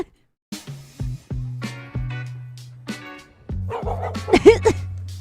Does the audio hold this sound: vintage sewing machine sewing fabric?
no